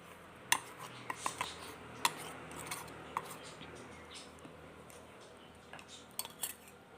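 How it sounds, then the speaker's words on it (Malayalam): Eggs and powdered sugar are beaten in a bowl with a utensil, giving quiet irregular clinks and taps against the bowl over a soft, low background. "ഇതൊന്ന് നന്നായിട്ടൊന്ന് അടിക്കാം"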